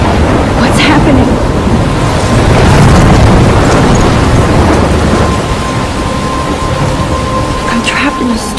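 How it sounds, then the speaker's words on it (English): Thunderstorm in the video game Life Is Strange: steady heavy rain hisses throughout while deep thunder rumbles roll in, with a louder crack early on and another near the end, and no voices. "I'm trapped in a storm?"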